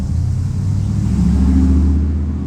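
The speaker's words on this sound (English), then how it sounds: "That was a nice old car." An old car driving past on a street, a deep low engine rumble that swells gently as it nears and then fades away, with no one talking.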